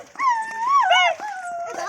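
A dog gives high, wavering whimpers and yelping cries, loud and close, and the whining rises and falls without a break for about two seconds.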